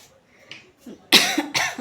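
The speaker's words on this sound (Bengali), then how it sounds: "কাশি হচ্ছে গলাটা কুকু করে কাশি হচ্ছে" Two sharp, close coughs, the second following the first after a short pause, with a little faint vocal noise before them.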